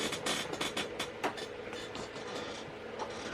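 A model Great Western Railway 0-6-2 tank engine pulling its train in reverse gives off a quiet, fast clicking rattle of small wheels over track joints, close by and continuous for a few seconds.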